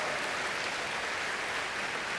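A church congregation applauds in welcome, a steady, dense wash of clapping hands that fills the room evenly without pause.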